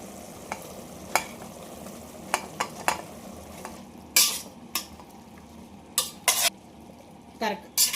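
Stir-frying mixed vegetables with masala for vegetable pulao: a low steady sizzle with repeated sharp scrapes and clatters of a spatula, some grouped in quick bursts, no talking.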